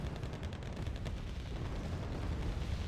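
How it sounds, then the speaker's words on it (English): Airstrike bombs exploding in the Cold War strategy game Wargame: Red Dragon, a continuous low rumbling roar of blasts and crackling gunfire, steady and muffled throughout. "Oh, actually, I may have walked right into the bombs."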